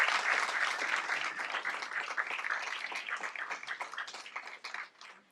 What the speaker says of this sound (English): let's give Coach Branch and his runners a round of applause